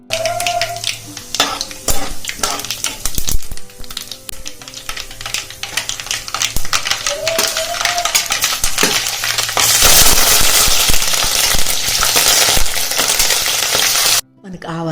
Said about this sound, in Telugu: ఇప్పుడు ఇందులో ఒక మూడు టేబుల్ స్పూన్ల వరకు ఆయిల్ వేసుకొని ఒక టేబుల్ స్పూన్ ఆవాలు ఒక టేబుల్ స్పూన్ జీలకర్ర వేసుకోవాలి